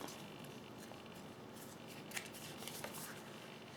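Faint papery rustles and a few soft flicks as tarot cards are drawn and handled, low against steady background hiss, with no talking.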